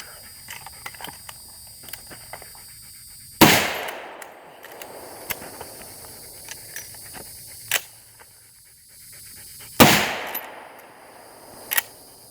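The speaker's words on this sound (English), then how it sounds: "Okay, so now I got 1 round left, and after that we'll do a speed reload." A lever-action rifle fires two sharp, loud shots several seconds apart outdoors, each with a trailing echo, between quieter clicks and clatter of handling and a speed reload; no talking.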